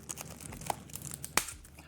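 Plastic wrapping torn and crinkled off an unboxed package of Formaggio, close and fairly quiet, with scattered rustles and one sharp rip near the end.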